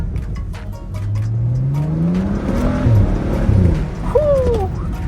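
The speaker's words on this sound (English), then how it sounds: "Whew, you can hear them pops." A turbocharged BMW 335i under a hard pull, its engine note climbing steadily with sharp exhaust pops and crackles bursting through the roar, heard from inside the car.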